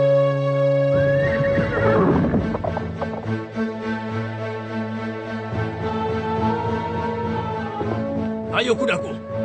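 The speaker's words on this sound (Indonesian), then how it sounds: "Ayo kudaku, larilah dengan cepat." A horse neighs loudly, a long whinny rising and falling, followed by a steady sustained tone with a brief high burst near the end; a dramatised scene with music, voices mixed in.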